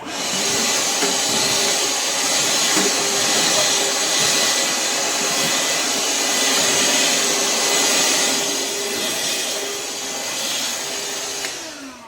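A Ridgid R860902B cordless vacuum cleaner runs continuously while cleaning, a loud, steady motor whine and airy rush of suction that shifts slightly in pitch as it moves, with no voices.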